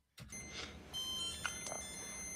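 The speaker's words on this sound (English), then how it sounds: "The alarm on his watch goes off" A digital wristwatch alarm beeps in a steady electronic tone that starts abruptly and carries on throughout, with a few faint background clicks and no talking.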